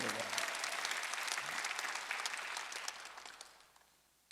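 Church congregation at a Sunday service clapping together, a thick continuous burst of applause that slowly thins and fades toward the end, heard without speech.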